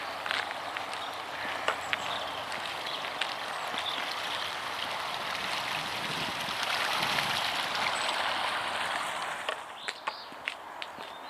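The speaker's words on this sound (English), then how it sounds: "It's a lovely little stretch of river, isn't it?" The River Ver flows steadily past a mill, a soft continuous babble and trickle of shallow water heard close by, with a few faint footsteps and a distant bird.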